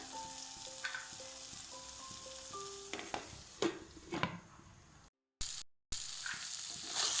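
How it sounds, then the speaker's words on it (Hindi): Potatoes with poppy seeds frying in a little oil over low heat, a soft continuous sizzle with occasional scrapes and taps of stirring and a brief clatter, near and without voices. "एकरा किछु काल तक भूजै छी कमे आँच पर, एकरा झाँपि झाँपि के भुजनाइ छै"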